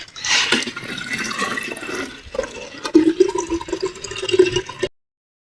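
Tap water pouring into a household water tank, a close, loud gushing splash that shifts into a deeper gurgling fill before stopping abruptly near the end, with no voices.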